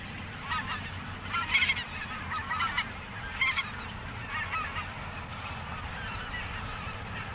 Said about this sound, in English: But probably my favorite goose species that we have.